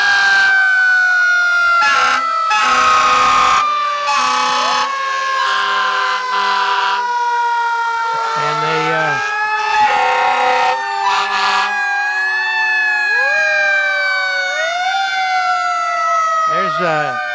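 Fire department trucks in a high school homecoming parade sound their sirens nearby, loud wailing tones sliding up and down and overlapping, with horn blasts and a voice talking through the noise.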